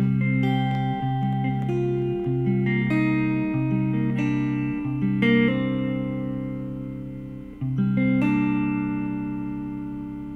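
Guitar intro to a song, played on only the three lowest strings, with sustained low chords that change every second or so over about ten seconds, steady and fairly loud with no talking.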